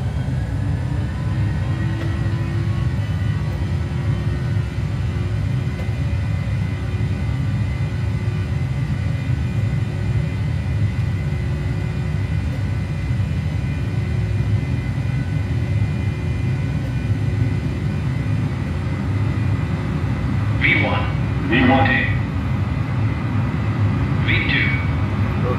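Airliner engines at takeoff TOGA power in a flight simulator game give a continuous loud low roar and rumble, with a few brief tonal beeps near the end.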